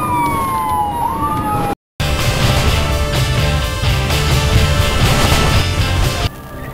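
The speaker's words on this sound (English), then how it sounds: "Ambulance is coming" An ambulance arrives with a short rising and falling siren wail at the start, then the clip cuts to a loud, steady rush of engine and road noise.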